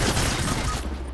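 Dense gunfire in a video game sounds as a fast, continuous burst of shots, loud and close, filling the whole short moment.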